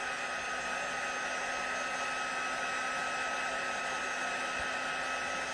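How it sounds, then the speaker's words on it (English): A heat embossing tool aimed at embossed cardstock blows a continuous, even whirring rush of hot air, close and steady throughout with no pauses. "I'm just going to give that a little heat with my heat tool again."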